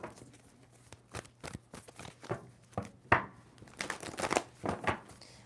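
Tarot cards being shuffled by hand, a string of quick crisp riffling snaps and soft slaps in uneven bursts, close and fairly quiet, with no talking over them.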